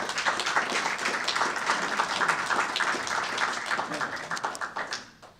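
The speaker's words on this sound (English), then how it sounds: "Can we get another round of applause for the two of them?" An audience applauds the two speakers at a university debate on whether God exists, a full round of clapping that swells, holds steadily, then thins into scattered claps and fades.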